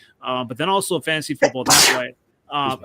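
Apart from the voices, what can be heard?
a person sneezing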